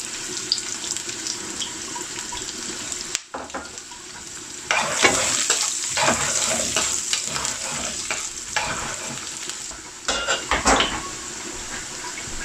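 Garlic and freshly sliced ginger frying in hot olive oil, a loud continuous sizzle with bursts of crackle and stirring as they hit the pan, close up and steady for several seconds.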